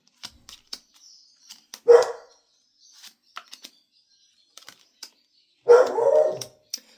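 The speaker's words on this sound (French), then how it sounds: "Je suis désolée hein, pour les aboiements." A dog barks twice, a couple of sharp, fairly close barks separated by a few seconds, with faint clicks and small noises in between.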